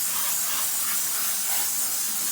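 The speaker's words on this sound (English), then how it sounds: "You just spray it down," Garden hose spraying water against cedar siding during a cleaning job, a steady, continuous hiss that stays even and fairly loud for the whole stretch with no talking.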